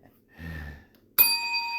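A single bright bell ding rings out as a sound effect, sharp and sustained with a ringing tail, following a short stretch of low murmur.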